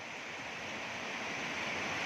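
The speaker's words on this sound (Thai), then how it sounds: "น้ำกำลังไหล" Steady broadband rush of rainwater flowing after heavy rain, constant and fairly close, with no pauses or voices.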